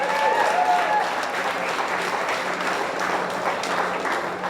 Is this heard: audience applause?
yes